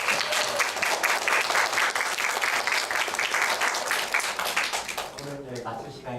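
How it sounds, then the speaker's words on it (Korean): Audience at a Korean orientation event breaks into sustained applause, dense rhythmic clapping that gradually fades as a voice begins speaking near the end. "다시 한번 박수 부탁드립니다"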